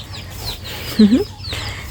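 A hen gives a brief cluck close by on a rural farm with chickens and ducks, a single short call against low background murmur.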